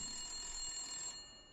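A telephone rings in the video game Blacksad: Under the Skin, a steady electronic ringing with bright sustained tones that holds for about a second before fading slightly, with no talking.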